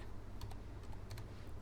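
Quick light keystrokes on a computer keyboard, a short run of soft, close clicks in an irregular rhythm over a low steady hum, with no talking.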